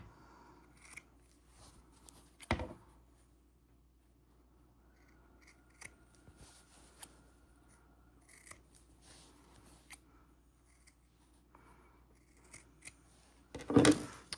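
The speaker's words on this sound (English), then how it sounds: "we're going to nip each of our corners off so we don't have bulk" Sharp scissors nip the corners off sewn fabric in two distinct snips, one early and one near the end, amid otherwise quiet handling sounds.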